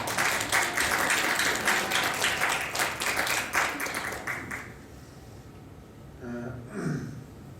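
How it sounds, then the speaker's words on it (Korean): A church congregation at a Sunday morning service applauds, a warm burst of many hands for about four and a half seconds that stops abruptly, followed by quiet room tone and a brief voice. "수고하셨다고 우리 박수 한번 합시다."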